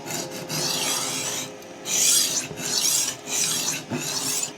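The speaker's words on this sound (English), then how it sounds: "No interruptions, just straight sharpening." Chef knife drawn across a diamond sharpening stone while a burr forms: steady, rhythmic rasping strokes with brief pauses between passes, close and clear, with no talking.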